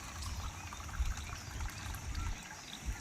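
Water poured from a vessel into a pot at home, a soft, close trickle and splash that comes in uneven bursts.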